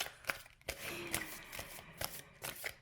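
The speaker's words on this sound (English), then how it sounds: "Sometimes that shuffling process is long and weary" Tarot cards shuffled by hand in short, irregular riffling bursts with soft slaps between them, close and fairly quiet, with no voice over them.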